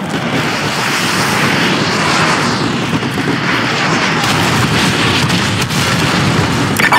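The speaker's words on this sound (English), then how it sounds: "Fire mission received. Artillery inbound." Artillery strike in the video game Call of Duty Modern Warfare 2: a loud, continuous roar of incoming shells and booming blasts, with rumbling aircraft-like engine noise throughout and no gaps of quiet.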